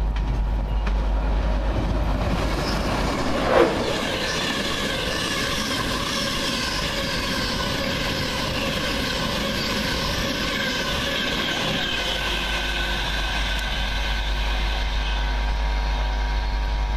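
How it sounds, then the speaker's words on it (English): Steady rumbling drone of a train passing at moderate distance at Berwick-upon-Tweed, sustained throughout with a brief sharp clank near the start. "Train to Edinburgh Waverley."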